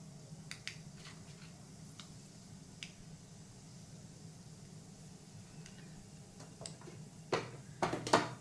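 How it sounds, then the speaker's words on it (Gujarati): Scattered sharp pops and crackles of mustard seeds in hot oil burst over a low hiss, sparse at first and then quickly thickening into a busy cluster near the end. "પછી રાઈ તતડવા આવે ને"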